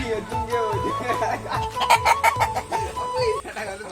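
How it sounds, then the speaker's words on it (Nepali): Chickens cluck repeatedly in a rural Nepali yard while people talk over them and other household noise continues underneath. "कुखुरा"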